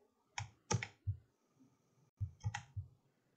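Computer mouse clicks come in two quick clusters of about three sharp clicks each, close and fairly quiet, with a near-silent gap between them while dragging in Rhino 7.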